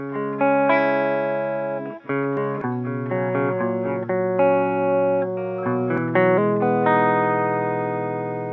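A clean electric guitar plays steady sustained chords and notes, ringing with a touch of reverb, loud and alone without any vocals.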